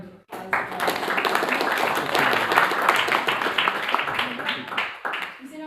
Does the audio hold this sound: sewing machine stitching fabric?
no